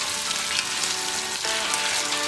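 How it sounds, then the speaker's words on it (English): Potatoes frying in a pan for a bacon and veggie omelette breakfast give a steady, dense sizzle, close and even throughout, with a brief stir-like scrape midway. "We're gonna fry them till they're golden brown."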